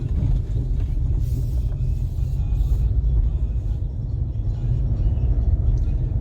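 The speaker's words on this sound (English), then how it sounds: "Traffic is a nightmare because of this encroachment of the highway." Heavy, congested highway traffic on the Grand Trunk Road (NH44) near Murthal, a constant low engine rumble from slow vehicles, with occasional faint higher hiss and what may be brief voices under it.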